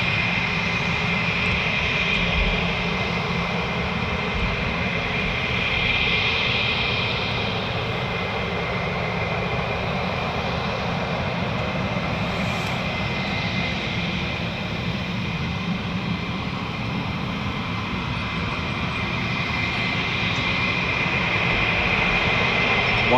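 An F-15 jet engine runs at RAF Lakenheath, a sustained, loud roaring whine that holds steady for over twenty seconds with a broad rumbling underlayer and a high tonal edge, continuous and unbroken with no voices.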